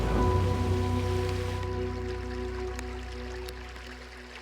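Steady rain patter over a low, constant hum, with occasional sharper drips standing out, in the Margalla Hills, Pakistan; no voices.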